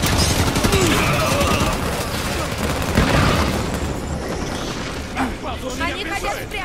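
Dense gunfire from Halo 5: Guardians on Xbox One, with rapid automatic bursts and booming impacts that continue steadily through a loud firefight.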